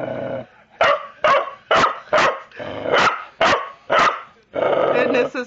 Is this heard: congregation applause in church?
no